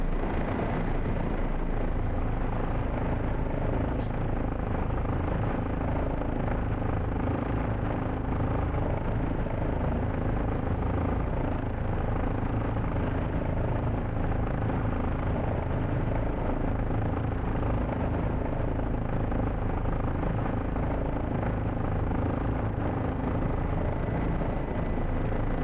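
A helicopter descends toward a helipad at about 40 knots, its engine and rotor roar steady, loud and close throughout, with no talking.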